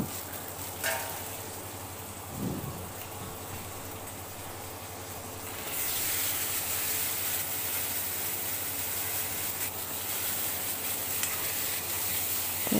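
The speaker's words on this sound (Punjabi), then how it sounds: "ਇੱਧਰ ਦੀ ਤੜਕਾ ਵੀ ਲਾਤਾ ਸਬਜ਼ੀ ਨੂੰ" Tempering of tomato, green chilli and ginger sizzling over potato and eggplant in a pan, a soft hiss that swells into a louder, steady sizzle partway through, close by with no talking.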